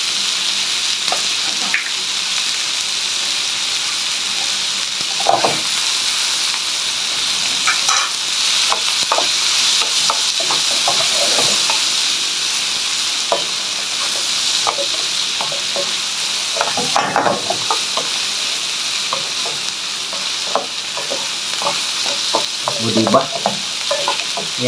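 Wild boar sisig frying in oil in a home kitchen pan, giving a loud continuous sizzle broken by repeated scraping stirs and clacks of the utensil against the pan, no voices.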